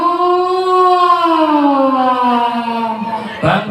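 A siren wails loud and close in one long, slowly falling tone, then breaks off abruptly into a brief noisy burst at the end.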